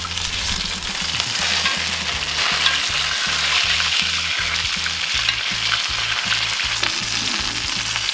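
Steak with garlic sizzling in a cast iron skillet, a loud continuous close sizzle with rapid rhythmic pulsing underneath and no voices.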